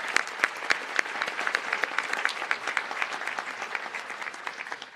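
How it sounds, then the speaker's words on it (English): Audience in an auditorium at a senior awards night applauds scholarship donors, with distinct individual claps standing out over a steady crowd patter that gradually thins toward the end. "please join me again in a round of applause thanking them"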